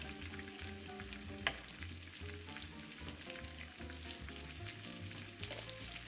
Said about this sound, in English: let's go ahead and spoon some of this deliciousness over this fish